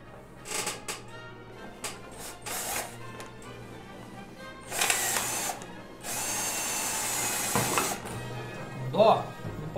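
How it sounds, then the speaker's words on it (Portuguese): A drill fitted with a larger bit runs in several bursts while changing a case handle, with short whirs early on, then longer sustained drilling; speech is also present. "Vamos lá tentar outra broca maior."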